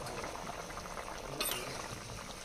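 Vegetables, including taro, bubble in a pot for a fish curry: a faint, steady simmer with one brief hiss midway, no voices.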